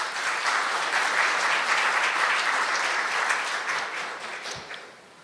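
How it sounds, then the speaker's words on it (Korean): Audience applause at a G Valley CEO forum in Seoul greets a guest introduction, a dense, steady wash of clapping from a large crowd that holds strong and then tapers off near the end. "박수 부탁드립니다"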